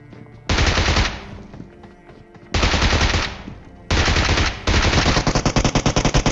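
A Bizon submachine gun fires in a video game in three loud, close automatic bursts, each a rapid stream of shots separated by short pauses, the last burst longer and ending in distinct separate shots.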